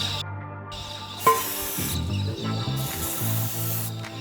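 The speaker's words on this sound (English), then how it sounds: "The silicone spray came with the car for a reason" Silicone spray hisses in sharp bursts onto the seized brake of a $600 Subaru build, with rubbing and scraping between the blasts and a hum in the background.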